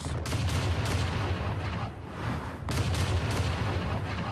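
Cannons fire beside a great fortified wall, a dense, loud, continuous barrage of booming blasts and rumbling crackle that dips briefly midway before surging again, with no talk.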